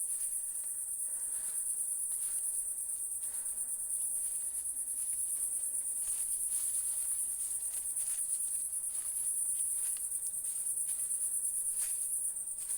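Crickets in a bamboo forest on a very hot day chirp in a constant high, shrill drone that continues unbroken throughout, with faint rustling underneath.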